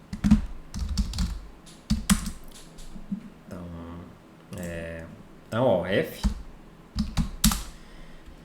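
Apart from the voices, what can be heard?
typing on a computer keyboard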